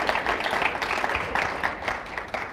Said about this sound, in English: There's your round of applause.